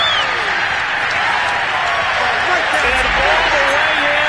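Crowd cheering after a touchdown in a Madden football video game: a dense, sustained roar of stadium applause and cheering, loud and continuous, with a commentator talking over it.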